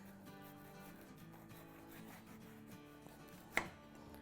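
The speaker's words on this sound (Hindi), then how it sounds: "तो सबसे पहले हम मिर्च के काटेंगे।" A knife chops three jalapeño peppers on a cutting board, soft quiet cuts under a low background hum, ending with one sharper, louder knock of the blade.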